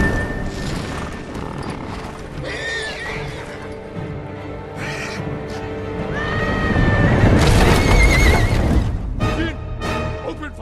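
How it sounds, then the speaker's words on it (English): Horses whinny and neigh several times amid a loud battle din in Ghost of Tsushima, with hoofbeats and rumbling effects swelling toward the middle. "Shoot the horses!"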